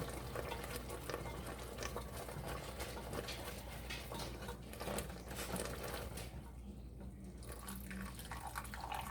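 Thick chicken pot pie filling is stirred in a pot, a faint, continuous wet scraping and churning with soft, irregular spoon strokes.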